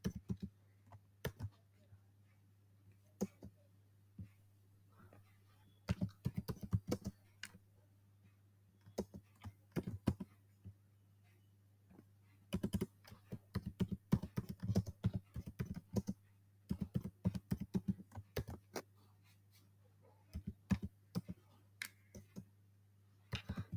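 Typing Java code on a computer keyboard, irregular bursts of crisp key clicks with pauses between them, close and clear over a steady low electrical hum.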